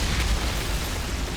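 A fiery Eruption skill explosion from the Fire Witch in the video game Outriders makes a dense, continuous roaring blast with deep low rumbles throughout, loud and steady for over a second.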